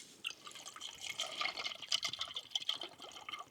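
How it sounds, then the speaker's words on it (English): Water is poured into a cup for hot drinks at a winter wild camp in Scotland, a steady close trickle and splash lasting a few seconds with no talk. "so we're pouring the water in"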